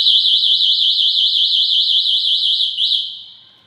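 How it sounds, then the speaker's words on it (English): Electric scooter alarm immobiliser sounding a loud, continuous warbling electronic siren that sweeps up and down steadily, close to the microphone, then cutting off and fading near the end. "Here we are, guys, with the all-new electric scooter alarm system."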